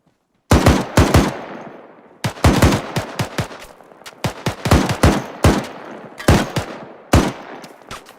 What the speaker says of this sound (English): We're taking small arms fire from the southwest